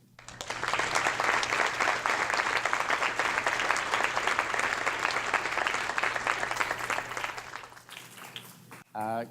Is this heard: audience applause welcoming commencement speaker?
yes